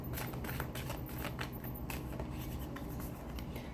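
Oracle cards are shuffled by hand in a steady, continuous papery riffle, close and fairly quiet, with no voices over it.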